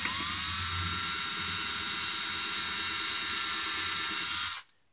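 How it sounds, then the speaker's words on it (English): Drill pre-drilling a hole in cedar chest wood: a steady high-pitched whine that holds for about four and a half seconds, then stops abruptly, loud and close with no voices. "pre-drill the hole."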